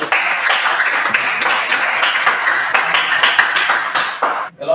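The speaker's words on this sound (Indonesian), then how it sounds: "Tepuk tangan untuk kelompok satu" Classroom students clapping together for group one, a dense, loud burst of hand claps that holds steady and then stops abruptly near the end.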